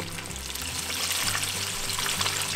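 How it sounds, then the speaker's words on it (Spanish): Fish fries in oil over medium heat, a soft, steady sizzle with faint crackles, heard close but quiet and alone. "Los freímos a lumbre media para que se vayan dorando parejito"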